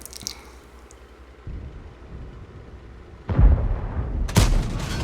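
A tank cannon firing shells in a video game: a quiet stretch, then a dull thump followed by two sharper, louder booming shots with short rumbling tails, near and punchy, no speech.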